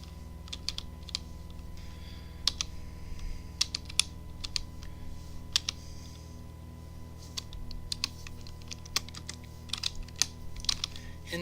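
Numbers typed on a computer keyboard: scattered, light key clicks in short irregular runs, fairly quiet over a steady low electrical hum, with no talking.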